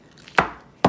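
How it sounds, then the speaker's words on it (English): A knife cuts a small piece off a stick of butter on a cutting board, giving two sharp, close knocks of the blade against the board, the second louder, with quiet pauses between. "We're gonna just cut a little piece off, like 2 tablespoons worth, about this much."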